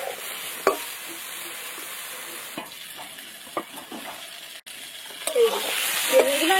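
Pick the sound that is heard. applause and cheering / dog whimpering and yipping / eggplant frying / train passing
eggplant frying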